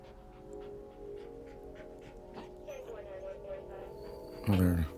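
A dog in a film scene pants and whimpers softly through a quiet, droning soundtrack, ending in a sudden louder yelp or bark near the close.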